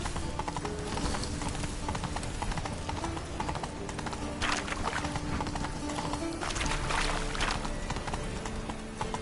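Horse hooves galloping at speed in the video game The Witcher 3, a rapid, continuous clip-clop rhythm over dense game ambience, loud and close throughout with no talk over it.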